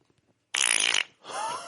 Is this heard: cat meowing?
no